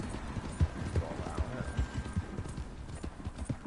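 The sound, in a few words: thoroughbred racehorse galloping in video game Red Dead Redemption 2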